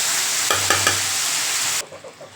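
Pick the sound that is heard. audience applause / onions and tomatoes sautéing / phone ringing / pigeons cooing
onions and tomatoes sautéing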